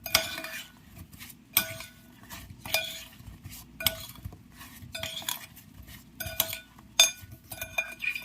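Cutlery scrapes and clinks against a bowl while an apple cake batter is stirred, with repeated close scraping strokes and sharp clinks at a steady, uneven rhythm and no talk.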